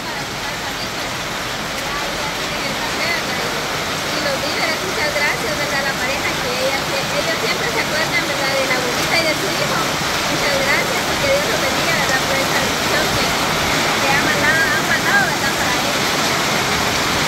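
Heavy rainstorm pouring down outdoors during an aid delivery, a dense, continuous roaring wash of rain that stays loud and steady throughout.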